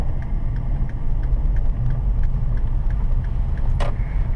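A car moves through a right turn onto a street during a driving lesson, with a steady low engine and road rumble, faint ticking that may be the turn signal, and a brief higher whir near the end.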